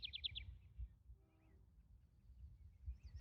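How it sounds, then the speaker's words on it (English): Morning birdsong in Alberta: a few quick bright chirps open the stretch, then faint scattered calls drift over a low outdoor rumble, distant and soft. "birds, I can hear bird song everywhere."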